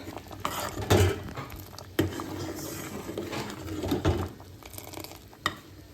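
In a home kitchen, payasam is being prepared: metal pots knock and a spoon scrapes and stirs, with a few sharp clanks against the rim over a low background hiss.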